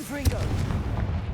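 A Confringo fire blast spell goes off in the Hogwarts Legacy game, a short booming impact with a whooshing tail, heard up close over game ambience.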